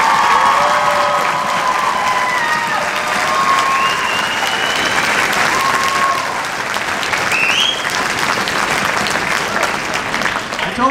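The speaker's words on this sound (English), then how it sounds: "Let's give them another round of applause." Audience applause fills the hall at a spring orchestra concert after the bass players perform, a dense, steady wash of clapping that holds for about eleven seconds, with faint crowd murmur underneath.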